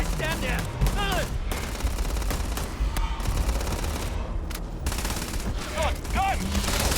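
Gunfire in the video game Starfield, with bursts of shots and a steady din of combat under a loud mix, as voices and a public-address style announcement cut in and out.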